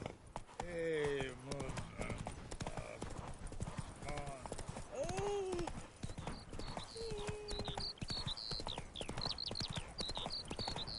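Hooves of Roach, a horse in the Witcher 3 video game, clip-clop along a road in a steady galloping rhythm, loud and continuous, with a brief whinny and a voice talking over the hoofbeats.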